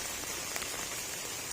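Rain falls without letup over an organic farm field, a short stretch of constant drumming hiss from countless drops, close and uniform, with nobody speaking.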